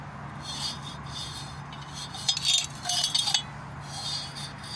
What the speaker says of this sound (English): So I'm going to get the flap disc on and clean that sleeve up and get it immaculate.